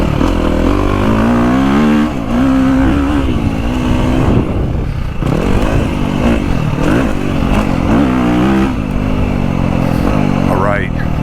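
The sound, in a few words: KTM 350 dirt bike engine revving, throttle cracked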